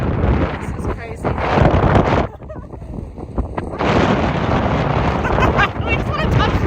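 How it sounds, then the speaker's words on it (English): Strong wind roars across the sand dunes in Colorado in early April, hard enough to drive pelting sand, as loud, steady buffeting on the microphone that eases briefly midway while people talk over it. "the wind was so extreme that there was sand pelting you everywhere"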